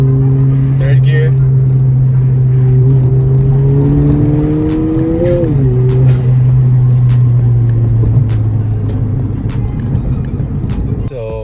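A 10th-generation Honda Civic Si pulls hard through third gear, its engine note climbing steadily under loud cabin noise, with a brief shift-like dip near the middle and a person speaking over it.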